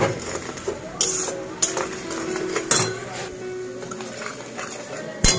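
Spices and split chilies being stir-fried (koshano) in a pan for a parshe fish curry: a metal spatula clinks and scrapes against the pan in several sharp knocks over a steady cooking hiss, with a faint voice in the background.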